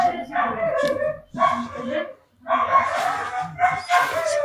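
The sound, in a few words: dog barking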